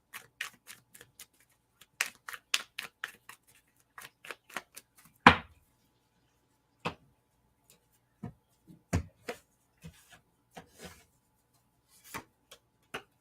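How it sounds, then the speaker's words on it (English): Tarot cards being shuffled by hand in a quiet room: scattered sharp clicks and riffles, sometimes in quick bursts and sometimes isolated, with one louder slap near the middle. "So now we'll do shuffle."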